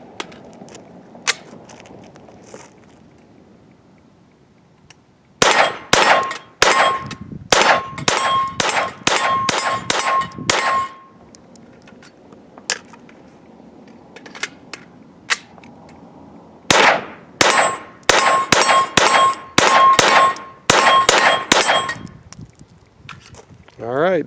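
A Sig MPX fitted with an Elftmann Tactical AR10/308 drop-in trigger fires two long, rapid strings of shots outdoors. Each round rings off a steel target with a sharp metallic clang, and quiet gaps fall between the bursts.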